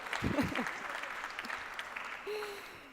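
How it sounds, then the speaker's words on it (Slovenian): A conference audience at a social media panel gives a soft round of applause, faint and fairly distant, with a voice briefly heard over it. "En aplavz."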